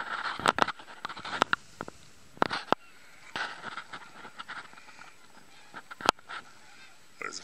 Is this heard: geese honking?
yes